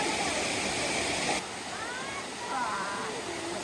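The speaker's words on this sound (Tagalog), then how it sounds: "The mini falls." A small waterfall at Bato Springs Resort rushes in a steady, dense wash of falling water, close and continuous, with faint voices under the roar.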